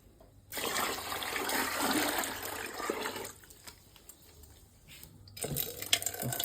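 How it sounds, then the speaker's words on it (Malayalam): Water gushes out as the first tank of a water filter is emptied, a loud rushing pour that drops to a quieter trickle and then surges again near the end. "ഇപ്പോൾ ഫസ്റ്റ് ടാങ്ക് വെള്ളമാണ് നമ്മൾ കാലിയാക്കാൻ പോകുന്നത്"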